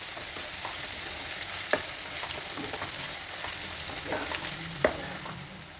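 Carrots and beans stir-fry on a high flame with a continuous close sizzle, broken by the occasional clack of a spatula against the pan as the vegetables are tossed, and nobody speaks.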